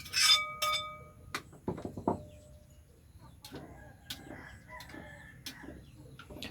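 Village chickens near an outdoor kitchen: a rooster crows near the start, then hens cluck in scattered short bursts, fairly close but moderate in level against quiet surroundings.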